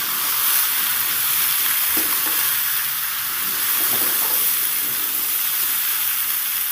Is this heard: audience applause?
no